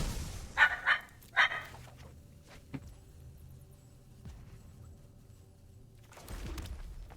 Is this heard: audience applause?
no